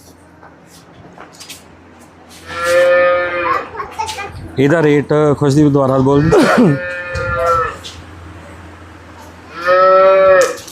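A cow moos loudly three times, long drawn-out lows close by, with a person speaking briefly between the calls.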